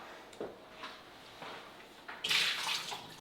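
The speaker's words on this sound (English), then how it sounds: "So you want to dump that water out." Water drained from a burrata cheese tub splashes out in a few soft pours and drips, ending in a brief, louder gush, close by and quiet.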